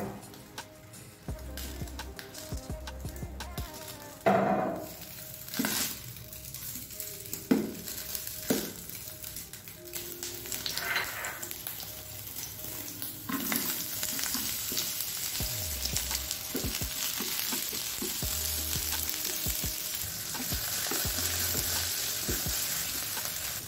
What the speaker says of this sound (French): On va y faire revenir les lardons et les oignons immersés dans de l'huile d'olive